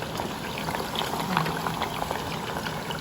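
Water boils steadily in a pot, a dense bubbling and popping that stays even and fairly close throughout.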